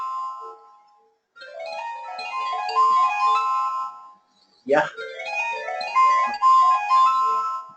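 A phone ringtone plays a bright, repeating musical melody during an online meeting, fairly loud and steady, briefly interrupted midway by a short spoken word before the tune resumes.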